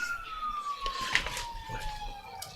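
An ambulance siren wails from a distance outside a high school football game, its tone sliding slowly downward as it passes, under faint crowd and background noise.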